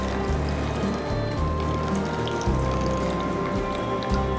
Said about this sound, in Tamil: இந்த கொள்ளு தண்ணியை இதில் நான் இப்போது ஆட் பண்ணுறேன்.